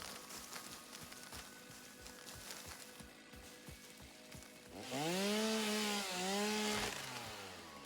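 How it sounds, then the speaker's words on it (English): A chainsaw felling trees in the factory-building game Satisfactory, first a series of rhythmic low chopping pulses, then a loud revving whine that rises and falls for a couple of seconds before fading, close and alone. "Biomass is not that difficult to get once you have the chainsaw and you actually live near the forest"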